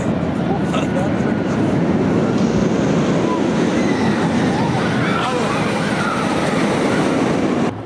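A loud train rumbles past nearby with rolling wheel noise and faint squeals, while people talk underneath.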